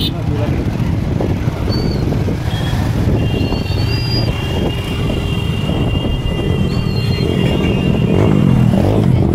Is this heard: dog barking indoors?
no